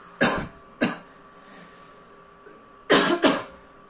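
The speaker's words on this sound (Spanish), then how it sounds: "tengo un poquito de tos aquí" Four sharp coughs in two quick pairs, close to the mic, with quiet pauses between them, during a GTA 5 gameplay session.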